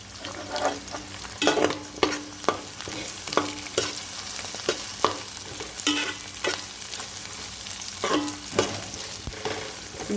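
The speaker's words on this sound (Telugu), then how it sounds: "ఇప్పుడు ఆనియన్స్ అయితే ఫ్రై అవుతున్నాయి కదా" Onions, green chilli and carrot fry steadily in a pan, a continuous close sizzle broken by repeated sharp scrapes and clacks of a stirring spoon at irregular intervals, with no voices.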